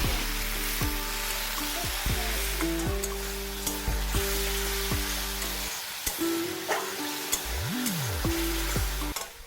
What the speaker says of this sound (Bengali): নুন হলুদ দিয়ে ভেজে নিচ্ছি